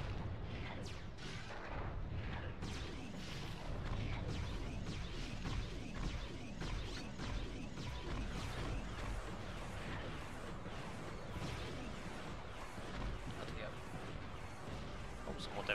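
Mines burst in rapid succession in the Ratchet & Clank video game, a continuous barrage of booming explosions and crackling blasts at steady, moderately loud level.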